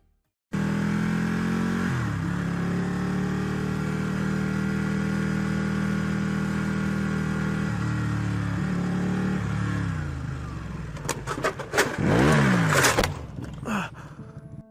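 A motorcycle engine hums at a steady pitch, then revs and changes gear while passing in traffic, before a burst of harsh clattering crash noise near the end of the accident footage.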